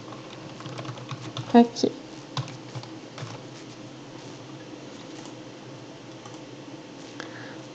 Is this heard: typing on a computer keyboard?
yes